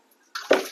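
Water suddenly starts flowing into the salt drum of a ZERO B AS-3 auto water softener, a close splashing gush that swells quickly and then settles into a steady pour.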